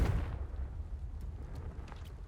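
A single booming Confringo spell blast bursts at the start in Hogwarts Legacy, smashing vases, then rumbles away into a dull, fading tail with faint clinks.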